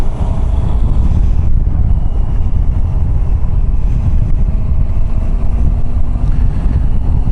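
A Triumph Tiger 800 motorcycle heard while riding, a steady, loud engine drone blended with heavy wind rush across the microphone, continuous with no talk.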